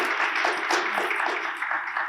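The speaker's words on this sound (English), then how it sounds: "let's give our panelists a round of applause." Audience applause for conference panelists at the close of a Dash security and leadership panel, a steady dense wash of many hands clapping with no pauses, filling the whole stretch at moderate loudness.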